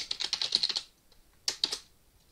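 Quick bursts of typing on a computer keyboard: a rapid run of about a dozen crisp, close key clicks, a short pause, then a few more taps.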